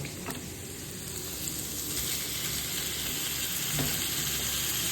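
Chicken pieces sizzling in a hot pan for Filipino tinola: a steady, loud frying hiss runs throughout, punctuated by a couple of sharp clicks from stirring.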